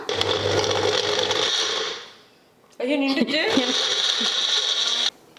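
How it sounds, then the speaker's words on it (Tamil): Masala being ground in a newly bought kitchen mixie: a loud, steady whirring grind runs for two seconds and fades, and after a brief lull a voice talks over a second burst of high whirring that cuts off sharply. "நான் இன்னொரு தடவை போட்டு அந்த மிக்சியில் அரைச்சிக்கிறேன்"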